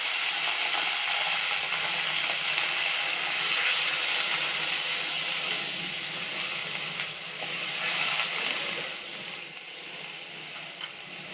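Fish frying in a pan hisses and sizzles loudly and steadily after a little water is added, a dense crackling spatter that continues with no voices.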